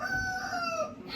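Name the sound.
rooster crowing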